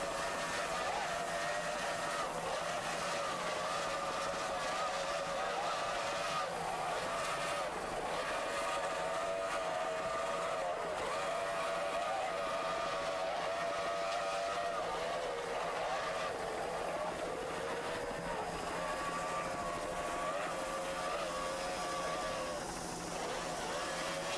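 A 30-foot Cobra powerboat racing in S-Class runs on its 2.5 EFI engines, a continuous loud engine drone whose pitch rises and dips slightly as the throttle changes.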